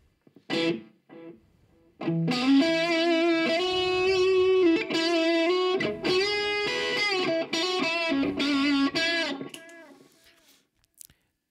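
An electric guitar played through distortion with a delay pedal rings out sustained, overdriven notes and chords. Repeating echoes trail behind, then the sound cuts off to near silence.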